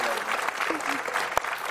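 Brief burst of applause from a television talk-show studio audience, dense clapping throughout, with a voice talking over it.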